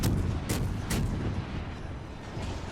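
Torpedo launch in the naval video game World of Warships Legends, a dense booming rumble with a few sharp bursts early on, loud and continuous throughout.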